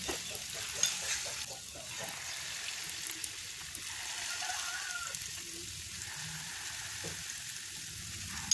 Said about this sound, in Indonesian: Goreng menggunakan api yang sedang,